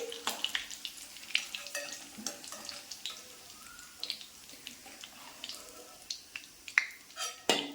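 Shallots and garlic sizzle in hot oil over a high flame while they are scooped out for an oil mango chutney, with sharp, irregular scrapes and clinks of the spoon against the pan over a soft, constant fry.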